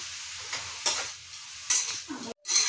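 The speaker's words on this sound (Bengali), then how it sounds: "নাড়িয়ে নিই ভালো করে।" Grated carrot halwa is stirred in a frying pan, a spatula scraping and pushing the sizzling mixture in several uneven strokes with brief pauses between them.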